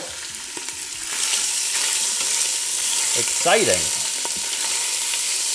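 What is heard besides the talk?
grease splattering while cooking beef stew in an Instant Pot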